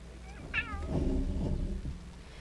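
A pet cat meows once, a short rising-falling call close by, over a steady low hum from a streamer's room.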